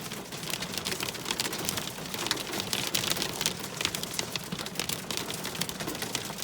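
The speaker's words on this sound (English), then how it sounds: "It's a hailstorm." Steady hail clatters at Lake Louise, a dense continuous patter of sharp hits that stays even and loud throughout, with no talking.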